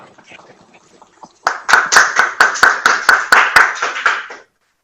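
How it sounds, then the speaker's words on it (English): Audience at a USAID and Korean environment ministry signing ceremony applauds to welcome a speaker: faint murmur at first, then a burst of loud, rhythmic clapping with about a dozen sharp claps in a steady beat before stopping abruptly. "Please welcome him with a big applause."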